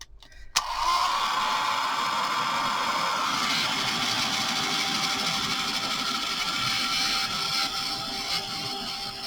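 A handheld heat tool blows hot air to dry craft paint on an altered playing card, starting with a click and then running as a steady, close, loud whirring hiss with no talking.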